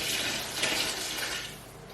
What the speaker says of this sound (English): I fill all bottles with a little bit water, all glasses.